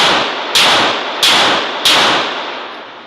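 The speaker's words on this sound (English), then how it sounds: "Fairly flat shooting though." Three loud, sharp shots from a Springfield Armory Echelon pistol ring out at an even pace, each a crisp crack followed by a brief decaying echo, with no talking.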